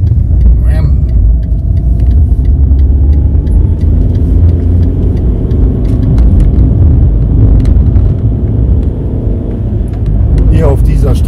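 Car driving along a mountain road on Madeira toward Pico do Arieiro, a steady loud interior engine and road rumble throughout, with people talking over it.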